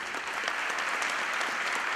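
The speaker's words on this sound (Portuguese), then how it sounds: "Uma salva de palmas, por favor." Audience applause fills the opening ceremony of a Brazilian impact assessment congress. It is a steady, even wash of many hands clapping at once that continues without a break through the whole moment.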